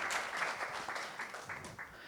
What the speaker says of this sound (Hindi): तो जोरदार तालियां हो जाए साराभाई वर्सेस साराभाई टेक